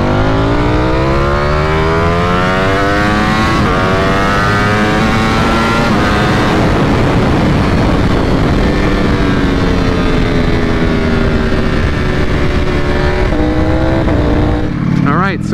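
A stock 2021 Ducati Panigale V4 SP sportbike accelerates hard from 60 to 130, its engine note climbing steadily through the gears with brief shift breaks, loud and close throughout and ending in a short rev.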